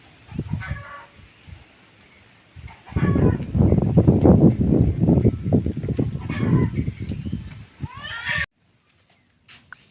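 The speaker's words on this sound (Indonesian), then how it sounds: "Ini adalah domba warga nih sedang dijemur" Villagers' sheep out in the sun bleating in a rural village, several overlapping cries building into a loud, busy chorus for a few seconds before cutting to near silence.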